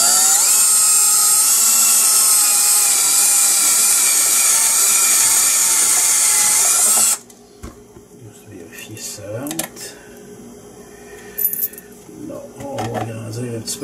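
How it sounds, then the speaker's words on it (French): A drill press spins a bit into a workpiece with a loud, steady high whine for about seven seconds, then stops abruptly, leaving quieter workshop clatter and someone speaking French. "Alors, on va commencer à percer ici."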